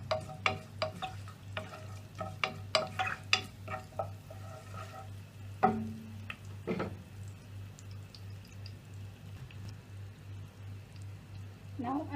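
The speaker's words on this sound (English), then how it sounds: "When the oil is hot, I'm going to fry mustard and curry leaves." Mustard seeds and curry leaves frying in hot oil give a faint crackle and spatter, with scattered pops early on that thin out into a soft, quiet sizzle.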